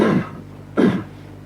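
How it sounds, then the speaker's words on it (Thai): Two short coughs or throat clearings from a Thai monk during a morning dharma talk, each a brief rough burst with a quiet pause between, close and fairly loud. "ขออนุญาตอภัยอย่างสูงด้วยในเรื่องการกระแอมกระไอต่างๆ"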